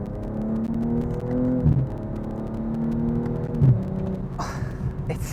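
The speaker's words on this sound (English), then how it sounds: "I'm going to shift it myself using the pedal shifts here" A 2022 BMW M240i engine with an 8-speed gearbox revs under paddle shifting, its steady drone climbing in pitch and then dropping sharply at two gear changes, loud and close with no talking.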